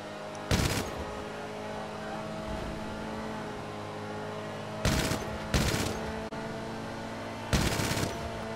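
In the video game GTA Online, four short bursts of automatic gunfire are fired at AI-driven cars, sharp and loud over a continuous car-engine hum.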